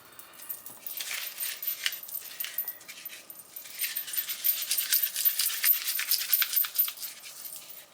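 Paper crumpled and squished by hand for a three-card fan cluster craft, a steady crackling rustle that swells and continues through, close and fairly quiet with no talking.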